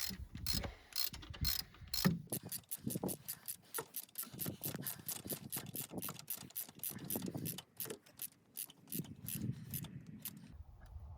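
Ratchet tightening a bolt in a tight spot on a 1990 Chevy truck, a long run of quick, close metallic clicks in steady rhythm with brief pauses, heard alone without talk.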